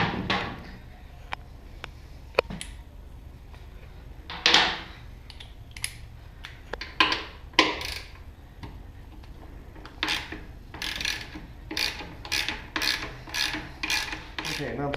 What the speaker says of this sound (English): you're going to need to remove these two bolts here to free the caddy up